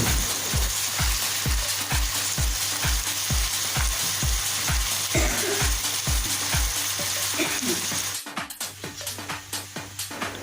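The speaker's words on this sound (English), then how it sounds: "When the mustard oil is well warmed, add onions in a pan and mix gently." Onions sizzle in warm mustard oil in a pan, a loud continuous fry with regular low thumps at a steady pace, then an abrupt shift to choppier sizzling near the end.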